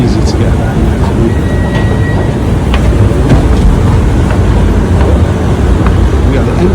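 A Bangkok monorail train produces a constant loud rumble and rolling noise, with voices heard over it.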